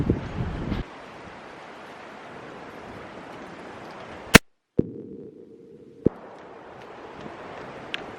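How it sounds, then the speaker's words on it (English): Strong wind rushes and buffets the microphone at an outdoor shooting range, a steady roar broken by a few sharp cracks and brief dropouts in the recording. "the wind has picked up like crazy"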